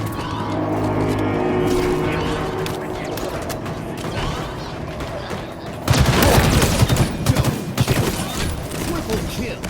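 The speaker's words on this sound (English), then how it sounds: "Incoming fire!" Rapid gunfire crackles through a video game firefight, starting under a mechanical hum and voices, then turning to denser, louder bursts of shots over the last few seconds.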